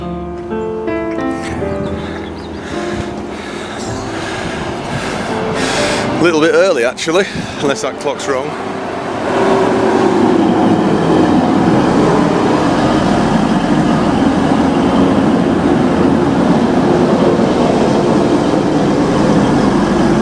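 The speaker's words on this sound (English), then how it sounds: "Our train is here." A diverted East Midlands Railway train rumbles into a station and draws up close by, its heavy engine and wheel noise building and then holding steady, with a person speaking over it.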